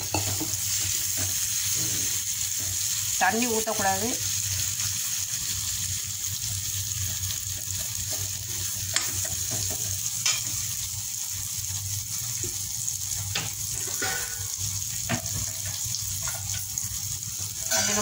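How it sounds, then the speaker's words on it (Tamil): Spiced raw plantain pieces sautéing in a hot pan, a steady sizzle and frying crackle with occasional stirring scrapes throughout, a brief voice speaking over the cooking. "ஒரு ரெண்டு நிமிஷம் அப்படியே வதக்கிக்கோங்க."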